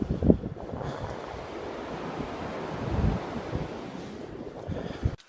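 Ocean surf rolls onto the beach at Clam Harbour, a steady broadband wash of breaking waves with wind buffeting the microphone, swelling briefly louder near the middle and end.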